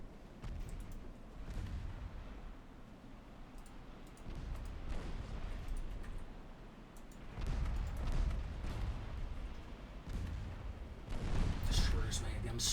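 Naval gunfire from 5.3 inch ship guns in the Ultimate Admiral Dreadnoughts video game, with repeated dull booms and rumbling blasts spread through the stretch, under ongoing talk.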